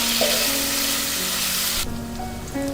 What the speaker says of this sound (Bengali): এবারে আমি এর মধ্যে পনিরের টুকরোগুলোকে এক এক করে ছেড়ে দিচ্ছি।